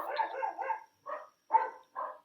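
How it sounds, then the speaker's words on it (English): Dogs bark in short bursts nearby in a quiet room, a rapid cluster of yappy barks followed by three separate single barks with silence between them. "And I apologize if you can hear my dogs barking."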